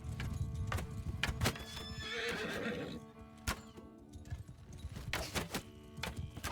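A charging horse in a Mount & Blade battle, with galloping hoofbeats and a loud neigh mixed into the clash of combat, sharp impacts scattered throughout, no speech.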